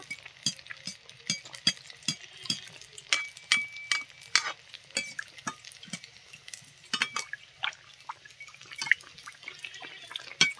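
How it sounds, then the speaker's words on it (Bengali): Oil sprinkled over carrot malpua frying in a pan, a run of sharp, irregular crackles and spits close up over a quiet background, no voices. "এবার এইভাবে তেল ছিটিয়ে ছিটিয়ে দেব।"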